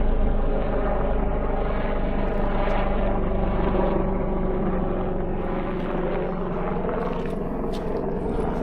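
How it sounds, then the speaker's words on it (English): A rescue helicopter passes overhead on the Isle of Skye, its steady rotor and engine drone loud and continuous throughout without letting up. "Rescue helicopter."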